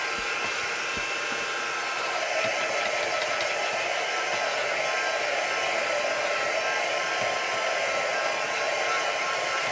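A hair dryer blows steadily and close on layers of mixed media paint over stencil work, a constant loud whoosh that holds unbroken for the full stretch with no voices over it.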